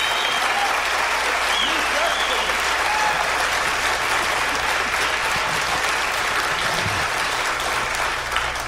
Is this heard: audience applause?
yes